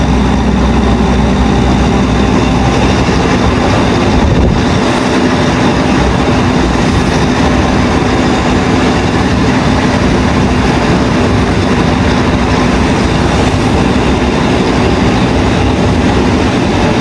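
A train at Gambir station in Jakarta at night, waiting to depart as the Purwojaya, gives a loud steady rumble and engine hum throughout, with faint clatter and no talk.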